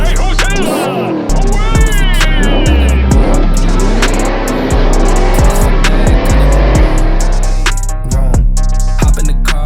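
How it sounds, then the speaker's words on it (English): A car engine revs hard and pulls away in a spacious garage, loud and close with rising engine tones, short bursts and a continuous roar, while voices talk over it. "Hop in the car, watch it go vroom."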